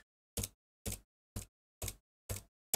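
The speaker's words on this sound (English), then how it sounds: "Sound of heavy footsteps coming from within the study." Heavy footsteps from a study in the BBC/Electron retro game Hex, rendered as five evenly spaced synthetic noise bursts, each a sharp crunchy thud with a quick decay, separated by silence.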